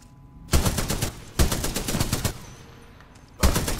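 Automatic weapon fire rings out in Titanfall 2 weapon training: three loud, close bursts of rapid shots, each about a second long, separated by brief pauses with faint background hum.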